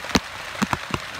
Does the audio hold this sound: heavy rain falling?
yes